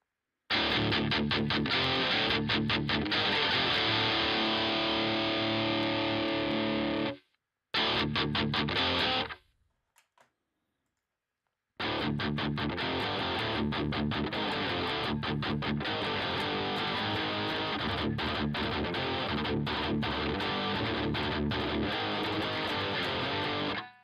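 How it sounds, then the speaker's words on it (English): An electric guitar runs through a GarageBand amp simulator on a high-distortion setting, loud and dense with sustained saturated chords, a brief gap, then more heavy, continuous distorted playing. "This most likely will be the highest distortion of these."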